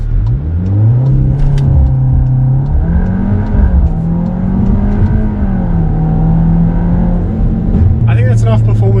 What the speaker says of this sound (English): and then we can do a launch.